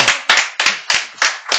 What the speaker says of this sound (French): Monsieur Théo, on peut l'applaudir, on peut l'applaudir.